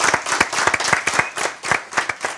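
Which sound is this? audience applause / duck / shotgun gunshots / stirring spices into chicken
audience applause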